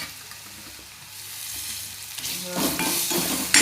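Tomatoes dropped into a hot frying pan with spices for a soybean keema, potato and cauliflower curry, a steady sizzle that swells louder and brighter near the end, close up with no speech.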